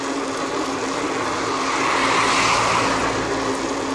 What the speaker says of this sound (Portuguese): Um carro passou por nós agora.